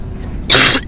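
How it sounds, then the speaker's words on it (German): A man's single harsh cough bursts out close to the microphone after a low background hum, loud and brief, with no talking. "mein Husten, ne? Das ist schrecklich."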